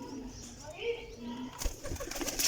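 A desi piplan wala pigeon coos softly in short low murmurs at close range, quiet against faint background voices and rustling.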